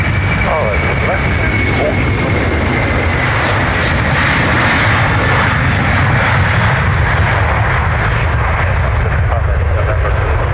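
An Embraer jet departs Dublin Airport's north runway, its engine roar loud, broad and steady throughout.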